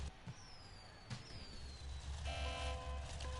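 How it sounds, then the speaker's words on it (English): A monster truck engine revs at a drag race start line in a Monster Truck Championship game: a deep, steady rumble builds and thickens partway through, with thin whistling tones and a couple of soft knocks laid over it. "revving at the starting line? That announces that the drag race is about to go down."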